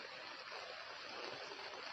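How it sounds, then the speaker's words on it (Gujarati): Evening rain pours down on Vadodara city as a dense, unbroken hiss of falling water, loud and even with no pauses. "સાંજના સમયે વરસાદ છે તે વડોદરા શહેરમાં ધબધબાટી બોલાવી રહ્યો છે"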